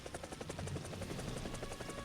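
Helicopter in the War Thunder video game, a steady rhythmic rotor thump with engine whine, continuous and fairly close throughout.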